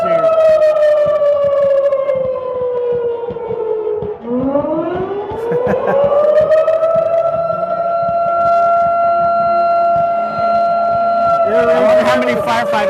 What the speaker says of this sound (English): Air raid sirens here.